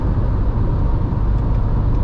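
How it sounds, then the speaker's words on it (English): A 2024 Dacia Jogger Hybrid (140 HP) accelerating gently under cruise control on a night drive, heard from inside as a loud, steady low road and engine rumble. "it's accelerating fairly gently to the desired speed we've set."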